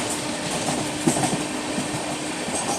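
The 22222 Delhi–Mumbai Rajdhani Express rolls out of Agra Cantt with a steady rumble and rhythmic wheel clatter on the rails, heard close and continuous without any talking.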